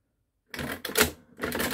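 The handle of a Burroughs Registering Accountant adding machine by the American Arithmometer Company is pulled and released: loud, close mechanical ratcheting and clacking in two bursts after a brief silence.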